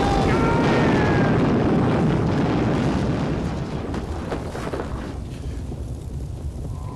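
A loud, sustained roaring rumble like a big explosion dominates, slowly fading into a broad windy wash with faint whistling tones early on.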